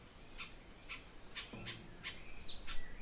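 A white-breasted thrasher in Martinique sings a string of short, faint chirps and whistled notes, about half a second apart, over quiet background.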